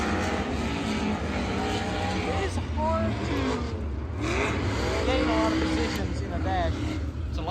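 Sprint cars roar through the start of a Toyota dash race at the World of Outlaws finals, a loud continuous engine drone with rising and falling pitch sweeps as cars pass, under a steady crowd-and-commentary wash.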